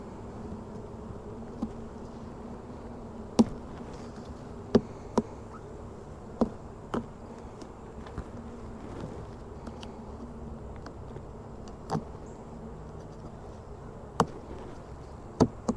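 Honey bees buzz steadily around late-summer hive nucs, a dense, even drone close by, broken by occasional sharp clicks and taps, with no talking.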